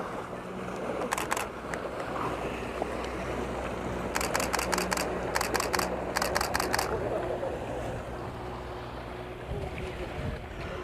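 A Canon 60D camera in sports mode fires continuous shutter bursts at about 5.3 frames per second, several rapid clicking runs heard over wind and water near a boat, with someone talking throughout.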